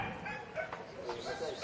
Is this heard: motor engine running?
no